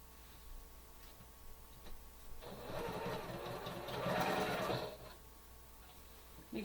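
A sewing machine stitches quilt fabric for a Halloween quilt, its motor whirring in a steady run of quick ticking stitches that swells in the middle and then fades back to a low hum.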